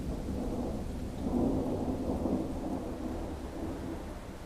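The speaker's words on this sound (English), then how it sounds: "It's raining now." Steady rain pours down while a low roll of thunder swells and fades underneath, a continuous dense wash with no voices.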